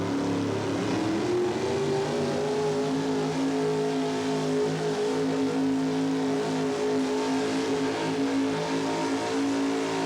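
A racing engine at a 1988–89 Red Man series motorsport event, the Oklahoma Showdown, drones loudly and continuously, its pitch climbing in the first second and then holding at a high, steady whine.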